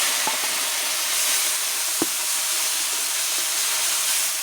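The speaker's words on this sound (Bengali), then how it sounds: "এখন দিয়ে দেবো আদা বাটা, কাঁচা লঙ্কা বাটা আর ধনে বাটা একসঙ্গে দিয়ে দেবো।" A paste of ginger, green chili and coriander sizzles in a frying pan for an egg and paneer dish. A steady, close, bright hiss carries throughout, with a couple of faint clicks.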